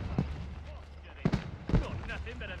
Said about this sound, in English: These fireworks are utterly delightful.